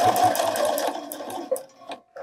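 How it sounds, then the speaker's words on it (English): Sewing machine stitching close to the raw edge of a bralette, a fast steady run of needle strokes that slows and breaks into a few short bursts before stopping, heard up close with no talk. "Turn and sew near this raw edge,"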